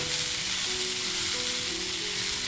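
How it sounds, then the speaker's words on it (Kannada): Boiled field beans (avarekalu) fry in a pan with a loud, continuous sizzle that stays even the whole time, over a faint low tonal hum; no one talks. "ಬೇಯಿಸಿಟ್ಕೊಂಡಿರೋ ಅವರೆಕಾಳನ್ನ ಹಾಕೋಣ ನೋಡಿ ಈ ಥರ ಚೆನ್ನಾಗಿ ಫ್ರೈ ಮಾಡ್ಕೊಬೇಕು"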